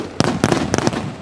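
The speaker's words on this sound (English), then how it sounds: "Champagne bath down in Victory Lane as the fireworks go off." Fireworks going off at victory lane after a Lucas Oil Late Model Dirt Series dirt-track race, several sharp loud bangs and crackles in quick succession, close and with no voices.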